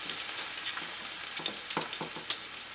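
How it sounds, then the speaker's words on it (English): Vegetables and ginger sizzle in a pan with a steady frying hiss, and a few soft stirring scrapes sound up close. No one speaks. "Just saute these vegetables for a little bit, a few minutes."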